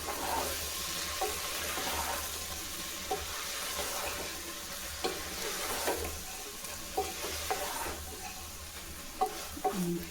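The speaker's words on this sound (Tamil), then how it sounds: "இப்போ கிளறி விட்டுக்கலாம்." Soya chunk and vegetable biryani stirred in a pan, with a steady sizzle and scattered scraping clicks of the spoon against the metal at irregular intervals, close and moderately quiet.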